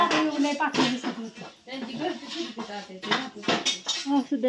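Dishes and pots being scrubbed and washed clatter and clink repeatedly in close, busy bursts, while voices talk underneath.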